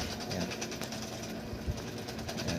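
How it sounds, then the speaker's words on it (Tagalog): A Panasonic inverter automatic washing machine's dryer spinning after a U12 error was cleared, giving a steady whirring motor drone with faint rhythmic rattling, close and fairly quiet, no voices. "tapos umiikot na rin yung dryer"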